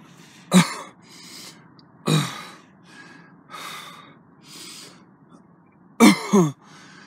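A person coughs and clears their throat in a few sharp, separated bursts, with heavy breathing and quieter rasps between them, close to the listener.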